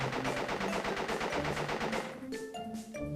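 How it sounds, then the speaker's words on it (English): Pinstripe's gun in the video game Crash Bandicoot fires in a rapid, loud machine-gun stream for about two seconds, then sparse game effects follow. "that gun is very loud, Pinstripe."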